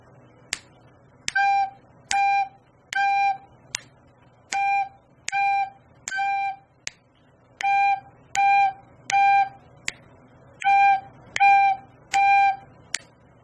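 A recorder plays a slow practice tune in short, evenly spaced sustained notes over steady metronome-like clicks, with one note slightly squeaky from a finger not fully covering a hole.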